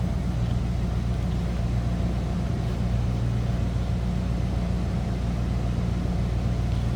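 A 1987 Ford Mustang GT convertible idles steadily with a deep, even exhaust rumble, close by and continuous, with no voices.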